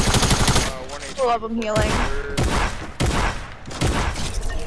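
Rapid gunfire bursts from the Fortnite video game, loud repeated volleys broken by short gaps, with players talking over the shots.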